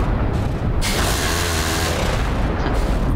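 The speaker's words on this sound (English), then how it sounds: "You can see all the explosions" Missile interception explosions in a video game about air defence systems such as C-RAM, NASAMS and IRIS-T against Iskander missiles: a continuous, loud rumbling roar of blasts and booms with a sharp surge partway through.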